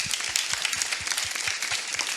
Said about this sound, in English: Well, round of applause for that.